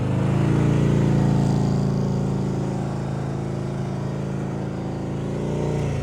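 A motorcycle engine runs at high RPM during slow speed riding practice, a loud, close, sustained drone that swells slightly and eases, with no voices.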